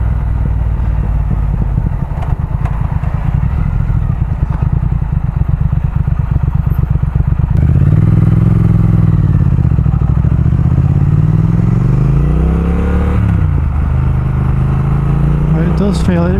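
Triumph Speed Twin motorcycle riding on the road, its twin engine pulsing steadily, then pulling away with rising and falling revs, close and loud with wind noise.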